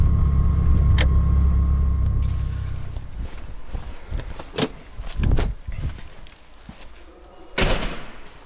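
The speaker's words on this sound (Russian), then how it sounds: "Едем до Владимировича менять бампер" A car driving on a road at close range, its engine rumbling loudly at first, then a steady road noise broken by knocks and thumps, with a slam-like burst near the end.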